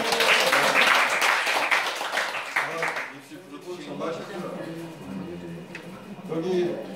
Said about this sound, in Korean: 박수 한번 쳐드려.